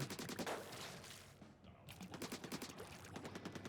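Rapid gunfire from the Nova weapon in a video game comes as a dense stream of fast shots that pauses briefly and then resumes in quick bursts, faint and distant in the mix.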